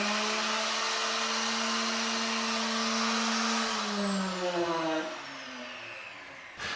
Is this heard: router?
yes